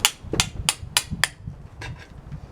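Hammer blows driving a chisel between the boards of an old rotted pallet: five sharp, evenly spaced metallic strikes, followed by a few softer, duller taps as the rhythm tails off.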